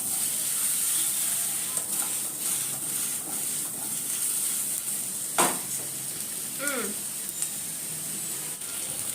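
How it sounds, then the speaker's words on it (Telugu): Capsicum frying in a pan with salt, turmeric and chili gives a steady, close sizzle throughout, with a sharp stir or scrape of the pan near the middle and a faint voice-like tone later on. "క్యాప్సికమ్ కూడా వేసుకొని చక్కగా మనం మిక్స్ చేసుకొని కాసేపు ఫ్రై చేసుకుందాము"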